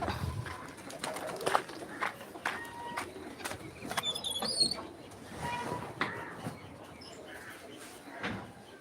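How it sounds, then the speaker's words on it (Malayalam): Pigeons on a farm, about to be fed wheat: soft cooing and light fluttering at close range, with a person speaking over the birds. "എല്ലാ പ്രാവുകളും കണ്ടില്ലേ കുറച്ച് ഇതിന് ഗോതമ്പം കൊടുക്കണമായിരുന്നു"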